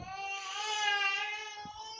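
A small child cries and fusses in a kitchen, one sustained wailing cry close by, fairly loud against an otherwise quiet room.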